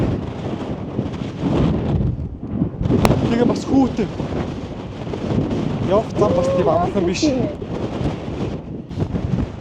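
Strong wind gusts across the exposed summit of Mount Kosciuszko, Australia's highest peak, roaring steadily against the microphone as people talk through it.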